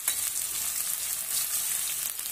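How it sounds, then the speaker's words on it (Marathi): Onion and green chili frying in a pan, a fairly quiet, even bright hiss of oil sizzling with faint stirring, steady throughout. "कांदा आपण आता भाजून घेऊ"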